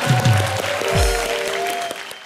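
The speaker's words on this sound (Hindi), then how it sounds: "सुपरस्टार जीतू जी के लिए जोरदार तालियां।" Studio audience applause on a Hindi TV comedy show, a short loud burst of clapping with faint voices underneath.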